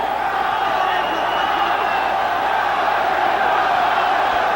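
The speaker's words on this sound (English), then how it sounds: "The crowd again tries to summon up something for Chavez." Boxing arena crowd rallying behind Julio Cesar Chavez during round five against Kostya Tszyu, a steady, dense roar of cheering and shouts that never lets up, with a commentator's voice running over it.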